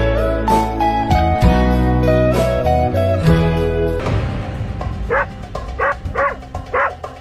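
A dog barks repeatedly in an Indian movie scene, loud yips and whimpering barks cutting over a dramatic music score, with the barks growing sharper and more spaced toward the end.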